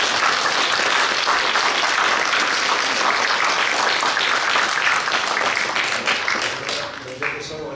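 An audience at a NATO Days 2017 talk with Slovak pilots applauds in dense, sustained clapping, which thins and fades toward the end.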